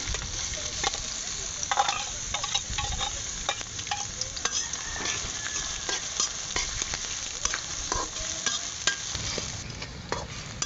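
Onions fry in a pan with cardamom pieces and cinnamon, giving a constant dense sizzle with frequent small clicks and scrapes of stirring throughout.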